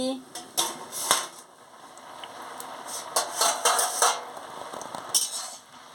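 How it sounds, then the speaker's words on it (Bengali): A metal lid clanks as it is lifted off a cooking pot of simmering elephant foot yam and potatoes, with light rattles and scrapes of cookware while someone talks over it. "এবার আমি ঢাকাটা তুলে নিচ্ছি"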